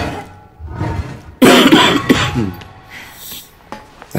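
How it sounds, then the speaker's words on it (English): A single harsh cough bursts out loud and close, followed by some rougher throat noise and breathing with quieter game sounds around it. "That cough still has not gone away"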